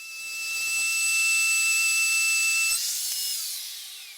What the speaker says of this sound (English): make a jig for my router so that I could safely make all these cuts and have them level straight across